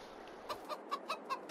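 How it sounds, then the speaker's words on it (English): Chickens in Farming Simulator 22 give a run of short, evenly spaced clucks that start partway through, close and clear over a soft background hiss. "look at our chickens"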